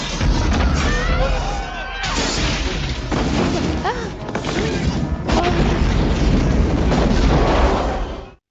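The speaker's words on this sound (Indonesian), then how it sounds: "akhirnya terjadi ledakan di berbagai tempat." Explosions from the Jackie Chan action film Who Am I boom and crash one after another, loud and dense, mixed with debris clatter and film score.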